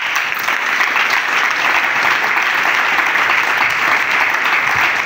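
A church congregation at a prayer service applauds, a dense, loud, steady clapping from many hands that holds through the whole stretch without a break.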